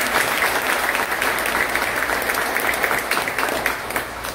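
A church congregation applauds during a 30th-anniversary ordination service, with sustained, fairly loud clapping from many hands that fades slightly at the end.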